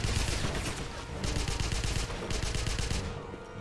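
Rapid automatic gunfire in Wolfenstein (2009), loud sustained bursts of rattling shots with brief pauses between volleys, close and continuous.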